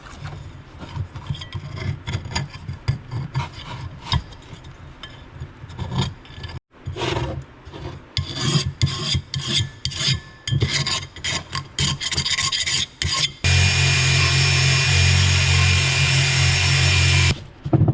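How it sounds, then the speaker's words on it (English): Old gasket material is scraped off a Caterpillar D2 dozer part by hand, giving a close series of uneven rasping, rubbing strokes, then a steadier, harsher grinding burst near the end. "Go ahead and clean the old gasket off."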